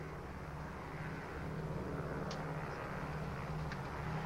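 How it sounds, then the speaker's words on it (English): Steady airplane engine drone heard from inside the passenger cabin, a constant low broadband roar that stays even and fairly quiet throughout, with no speech over it. "This plane is going to be 48 hours late."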